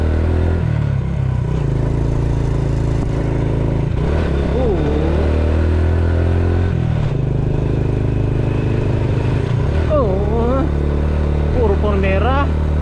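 Motorcycle straining up a steep, rough mountain road near Montalban, Rizal, held in first gear, its engine droning steadily throughout with rising revs, while someone talks over it.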